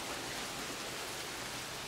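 Rain falls in a steady, even hiss outdoors, faint and continuous with no distinct drops or other sounds standing out.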